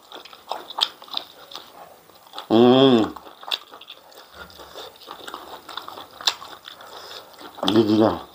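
Biting and chewing on stir-fried jumbo octopus in oyster sauce, with soft crunchy, squishy chewing bursts close to the microphone between quieter pauses.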